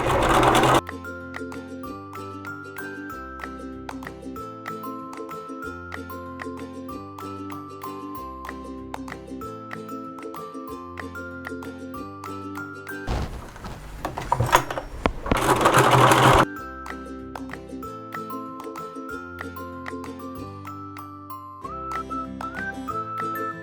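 A sewing machine with a twin needle stitches a piece of neoprene in a steady rapid whir with fast needle clicks, close and loud, broken by a brief noisier burst midway and then resuming, with no talk.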